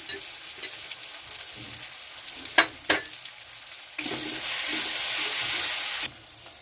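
Turmeric and chili powder frying in oil in a pan for an ilish and eggplant curry, a soft steady sizzle with two sharp clinks partway through, then a louder, brighter surge of hissing for a couple of seconds before dropping back.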